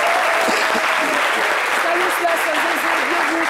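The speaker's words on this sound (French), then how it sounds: "Je vais vous applaudir." Steady, dense studio audience applause on a French-language midday TV show, a continuous wash of clapping at an even level with a faint voice and tones under it.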